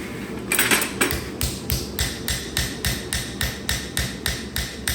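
The flat face of a ball peen hammer strikes a forged knife blade on an anvil in a steady, even rhythm of bright metallic taps, about three per second, close and alone.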